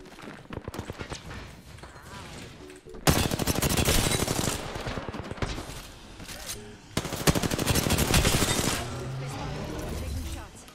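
Gunfire in the battle royale game Apex Legends: rapid automatic bursts, loud and dense, in two long volleys after lighter scattered shots, with a player's voice over the action.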